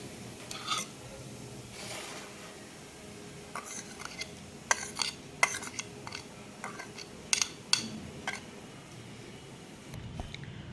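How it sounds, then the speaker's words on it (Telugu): Lemon juice chutney with salt, fenugreek powder and red chilli is stirred in a bowl, with scattered quiet taps, clinks and soft scraping, irregular and close. "ఇలా అన్నీ వేసిన తర్వాత చక్కగా కలిపేసుకోవాలి"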